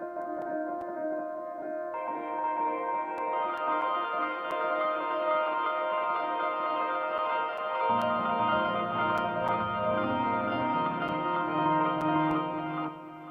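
Piano loop sample with reverb and delay added, a soft, washy sustained chord texture that shifts harmony partway through, moderately quiet and alone.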